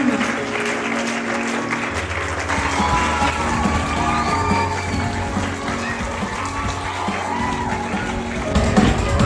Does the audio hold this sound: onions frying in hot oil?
no